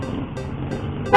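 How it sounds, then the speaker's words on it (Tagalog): A short horn blast from an Easyride ADV 175 motorcycle, several quick loud beeps close by, with a low engine hum underneath. "So yun yung busina niya, malakas."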